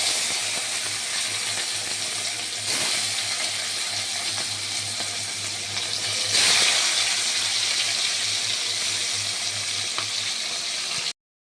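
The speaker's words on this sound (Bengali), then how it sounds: "তেল গরম হয়ে গেছে, সর্ষের তেল। এবার আমি বাটা মাছ কটা ভেজে নেব।" Bata fish, a pond-raised freshwater fish, fries in hot mustard oil with a steady, loud broadband sizzle that runs unbroken for about eleven seconds, with brief louder bursts as the pieces shift in the pan, and no talking.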